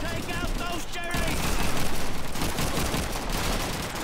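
Rapid gunfire crackles through a Call of Duty 2 battle, dense overlapping shots and bursts firing almost continuously for the whole stretch, loud and close with a voice talking over parts of it.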